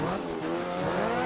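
Rally car in the Dirt 3 video game, its engine roaring steadily and loud for a brief moment with tire squeal and gravel skidding mixed in, no talk.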